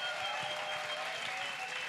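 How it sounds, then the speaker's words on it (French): A congregation at a salvation and healing crusade in Bafoussam claps as an offering: soft, dense, distant applause with sustained musical tones ringing underneath. "Clap offering to Jesus Christ."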